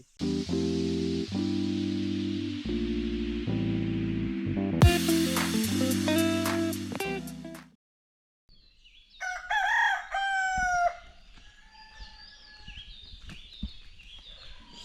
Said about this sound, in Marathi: सकाळीच कोंबड्याचा आवाज